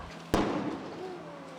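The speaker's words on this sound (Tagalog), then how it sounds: "May mga naitala ring pagsabog." A single sharp explosion cracks out during a large residential house fire, followed by a fading rumble and a faint siren-like tone in the background.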